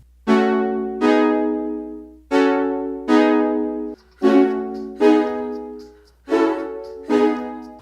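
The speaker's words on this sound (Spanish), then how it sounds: "el sonido del sintetizador," Brassy Yamaha CS-80 synthesizer chords swell in a steady repeating rhythm, each stab sharp at the start and fading, loud and upfront with no voices, from a recording.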